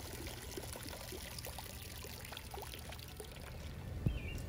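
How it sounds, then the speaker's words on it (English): Water trickles and dribbles out of an above-ground pool vacuum turned upside down after cleaning a Summer Waves pool, making a faint steady splashing stream that stays low throughout. "Once you are done vacuuming, you'll just turn it upside down and let the water drain out here"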